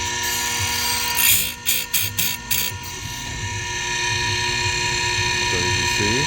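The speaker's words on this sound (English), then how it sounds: "Hard to do it with one hand, but that's how I sharpen chains" A Stihl HT131 pole pruner chain being hand-sharpened with a file, steady high-pitched engine-like whine throughout with a series of short rasping strokes near the start, loud and close.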